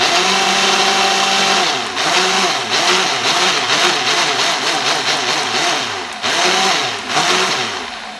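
A Ninja blender whirs loudly and continuously as it blends ketchup ingredients, its motor pitch wavering and surging slightly throughout.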